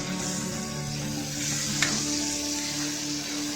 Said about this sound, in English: Mix well and cook the all ingredients on low heat until the nice aroma develops and oil separates again